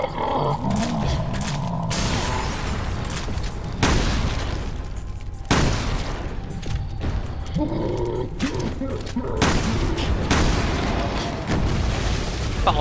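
Explosions ring out in Resident Evil Revelations 2, with several heavy booms and roaring bursts breaking through continuous game noise, some of them abrupt and loud.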